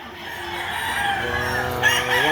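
A bull stag rooster crows at a Saturday chicken market in Lipa, Batangas, one drawn-out, loud, close call that rises toward the end, with no talk over it.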